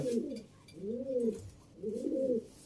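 Pet pigeons coo in three long, rolling phrases, close and moderately loud, with brief pauses between them and no talking.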